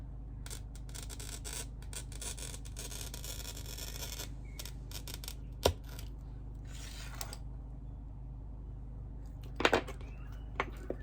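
Stained glass is scored and snapped while cutting mosaic pieces for a Macintosh rose, with faint scraping and rubbing, a few sharp clicks and cracks, and quiet gaps between them.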